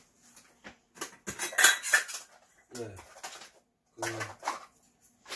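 Flat camping plates and utensils from a Daiso cookware set being handled, a few light metallic clinks and scrapes in separate bursts, close by, with brief squeaks between them and no speech.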